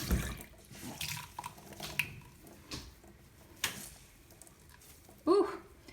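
Cold tap water runs while a makeup beauty blender sponge is cleaned, giving a steady, fairly quiet splashing wash with a few sharper drips and squishy handling noises.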